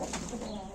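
Domestic hens at a small poultry farm cluck and coo softly around feeding time, a continuous close murmur of fowl calls lasting under a second with no talk.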